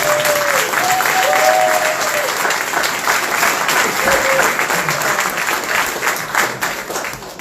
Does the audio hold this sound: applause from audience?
yes